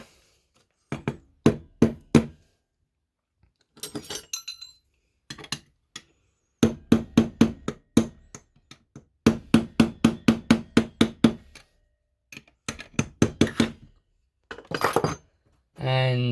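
A carburettor part is tapped into place on an engine with repeated sharp metallic knocks, fired in quick clusters of several taps separated by short pauses, close and clear.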